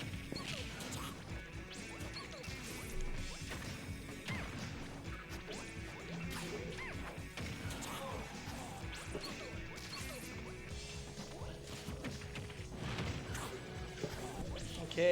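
Super Smash Bros. Ultimate tournament match between Jigglypuff and Greninja: a dense, continuous run of game hits, whooshes and impacts, including attacks crashing into a shield, with faint commentary underneath.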